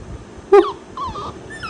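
A husky gives a short sharp yip followed by a softer whining, drawn-out vocalization, close by in a quiet room.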